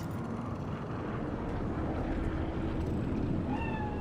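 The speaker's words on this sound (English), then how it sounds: "Fine-looking feline." A cat meows faintly amid a dense city background rumble in the Cyberpunk 2077 game world, its brief cries thin against the steady hum.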